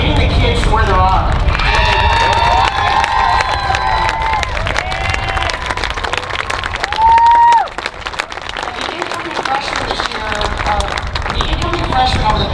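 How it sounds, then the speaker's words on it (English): Parents and students at a school gathering clap and cheer loudly and continuously, mixed with crowd babble, while sustained tonal sounds drift over the top. "I want a really loud round of applause from everybody, parents and students"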